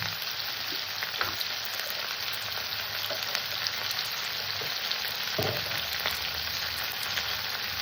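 Cabbage for a simple vegetarian Bengali cabbage dish fries in oil in a pan, giving a steady, close hiss and sizzle with scattered spattering pops throughout and no voices.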